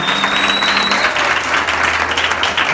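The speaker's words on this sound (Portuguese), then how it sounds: "Outra salva de palmas para o Tomás" An audience claps steadily for Tomás, a performer who has left the group, with a thick, even round of applause running loud throughout, briefly layered with a faint tone at the start.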